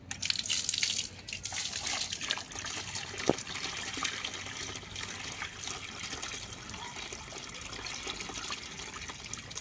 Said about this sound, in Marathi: आणि मग आता आम्ही याच्यात थोडं पाणी टाकतो।